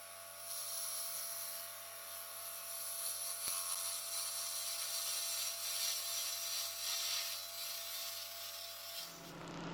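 A woodturning lathe shapes a wooden hollow form vase, with a steady hissing, scraping tool cut over a constant motor hum that stops abruptly at the end.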